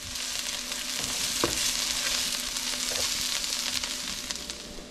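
Diced moose heart and onion cooking in a pan with mushroom and cider, giving a dense, steady close sizzle with occasional soft stirring knocks, no voices.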